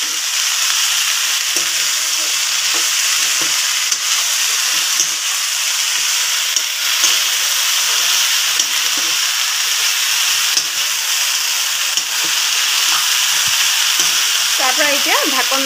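Potatoes frying in a pan while being stirred, giving a loud, steady, close sizzle with scattered scraping clicks throughout and a brief squealing tone near the end.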